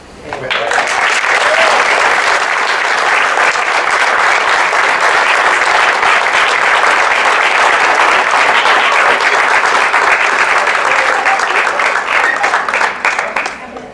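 A school committee meeting audience applauds a third grade class, sustained crowd clapping that swells quickly and holds at full, even strength for over ten seconds before tapering off, with some voices mixed in.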